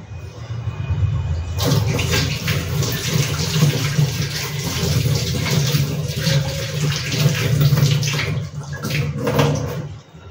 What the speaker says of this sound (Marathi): मधून मधून ब्रश धुवून घ्यायचा